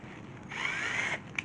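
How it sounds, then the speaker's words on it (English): A power drill drives into wood while building a DIY microcabin, a short whirring burst of just over half a second rising and then cutting off, followed by a single small click, close and moderately loud. "give it a little drill"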